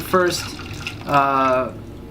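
Tea pours from a teapot in two short bursts, a brief splash followed by a longer steady pour, close by with quiet room noise between.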